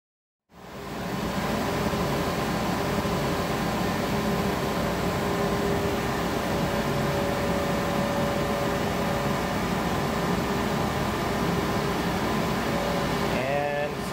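Océ Arizona 6170 XTS flatbed printer printing eight boards, a steady mechanical hum and whir with tonal machine drones running continuously at close range, ending with brief high electronic tones.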